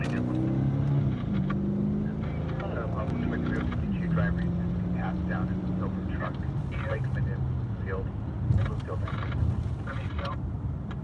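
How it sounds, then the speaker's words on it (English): A silver truck drives past with a loud engine drone whose pitch shifts as it moves, while people talk over it. "Driver passed down in the silver truck."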